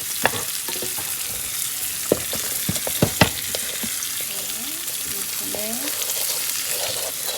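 Onions hiss and sizzle steadily as they go into a hot gumbo pot, with a few sharp clinks and taps of a utensil against the pot over the continuous frying.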